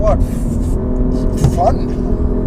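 A 2019 Alfa Romeo Giulia Quadrifoglio pulls hard on the road, its engine a loud, steady, rising drone heard from the cabin, with a couple of brief vocal sounds over it.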